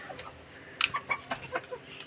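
A white hen clucks in short, uneven bursts in a farm enclosure, fairly close, with other fowl sounds mixed in and no talking.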